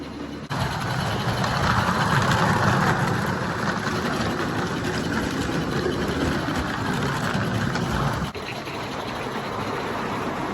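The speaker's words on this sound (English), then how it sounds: "the diesel engine noise that was humming in the background" Steady low diesel engine hum from an indoor live steam model railway layout, a continuous even drone in the background that dips slightly in level near the end, with no talk.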